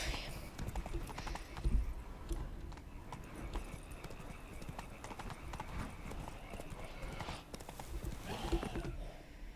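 Roach, a horse in The Witcher 3, gallops with a steady rhythmic clip-clop of hooves, moderately close, under battle ambience and brief voices.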